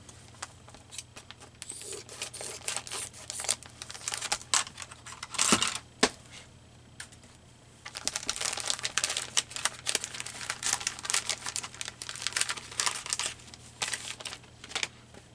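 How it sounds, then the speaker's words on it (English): A cheesecloth package is opened up close, with bursts of crinkling and rustling plastic, a short pause, then a longer run of crackling handling, faint and without talk. "I open this package. I'm not sure where. I guess I just got to cut it open."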